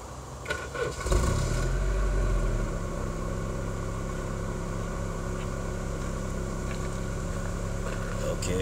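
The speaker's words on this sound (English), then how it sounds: "I'm gonna crank her up now, let it run for a couple of minutes" A car engine cranks and catches after a Seafoam spray treatment, then settles into a steady low idle that drones on, heard close with some background noise.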